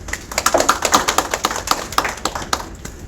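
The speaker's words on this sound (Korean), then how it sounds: "그럼 박수 부탁드리겠습니다" Audience at a press and lawyers' association debate forum applauding a speaker. Sparse, distinct claps sound close by in an uneven rhythm, tapering off after about three seconds.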